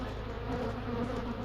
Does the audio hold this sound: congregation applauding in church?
no